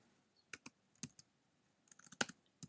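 Sparse keystrokes on a computer keyboard while typing a line of Java code, a few isolated soft clicks and then a quick cluster of taps, close and quiet with no talking.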